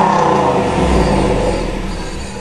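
A Camaro doing a burnout at a farm produces a loud, close engine roar, held high and revving hard before easing off slightly at the end.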